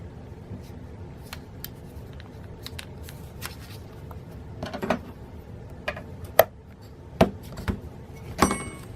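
Paper is folded in half for a snowflake rosette: quiet, close crinkling and rustling, with a few sharp creasing snaps toward the end.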